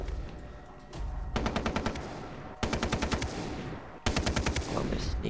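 Automatic gunfire in the video game Far Cry 3 rattles out in three rapid bursts of evenly spaced shots over a steady background din, each burst starting sharply and running for about a second.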